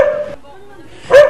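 A dog barks twice, one sharp bark at the start and another louder one about a second later, with a quiet gap between them.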